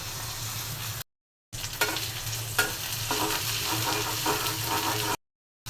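Spices fry in hot oil in a home kitchen for lentil dal with tomato, a close, steady sizzle with stirring scrapes and clinks, broken by two brief silent gaps.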